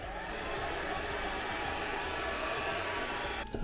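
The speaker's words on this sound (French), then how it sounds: "c'est vous utilisez le sèche-cheveux." A hair dryer blows continuously and loudly while drying a Halloween cosplay piece, a steady close whir that cuts off abruptly at the end.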